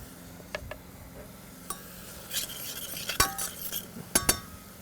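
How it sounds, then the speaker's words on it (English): Mushrooms tip into a pan of reduced, syrupy white wine with soft clinks and scrapes of a utensil against the pan, a few sharper metallic taps and a faint sizzle underneath. "I'm going to add the mushrooms in."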